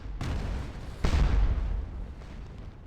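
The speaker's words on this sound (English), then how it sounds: "it looks like there's a bunch of counter battery fire right now." Counter-battery artillery fire in the Napoleonic Waterloo battle game Scourge of War: two booming cannon shots about a second apart, the second louder and rumbling off into a fading echo.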